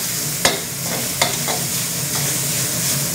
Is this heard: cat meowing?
no